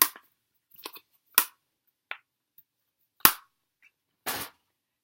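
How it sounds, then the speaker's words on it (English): Sharp plastic clicks from an eyeshadow palette case snapping shut, several isolated taps and snaps spread out with quiet gaps between them, close and fairly crisp. "you can hear it has that same click as the Naked palette"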